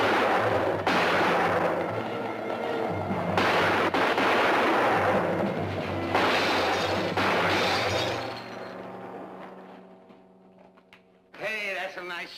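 Gunfire in a classic western TV drama: several loud sharp shots ring out over dialogue and background score, then the scene quiets before voices resume.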